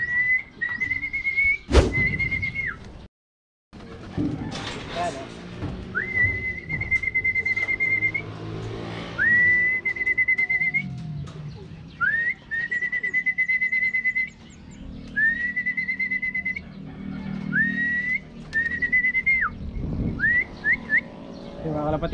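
A person whistles repeatedly to call a pigeon perched in a gutter, sharp rising whistle notes in a rhythmic series with short pauses, outdoors with faint background noise and a voice talking briefly.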